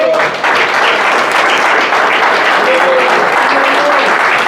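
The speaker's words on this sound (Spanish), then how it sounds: "Dale un fuerte aplauso al Señor Jesucristo" A church congregation applauding loudly and continuously, dense crowd clapping filling the room from start to finish, with faint voices mixed underneath.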